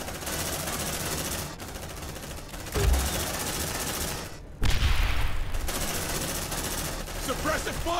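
Sustained gunfire from squad weapons in the sci-fi horror game Aliens: Dark Descent, a dense crackling fusillade that carries through most of the stretch, punctuated by two heavy booms, with players talking over it.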